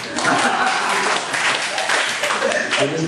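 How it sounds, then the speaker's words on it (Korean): A church congregation claps together in a sustained, dense wash of applause that stays loud and steady throughout, with some voices mixed in. "박수 한번 치세요."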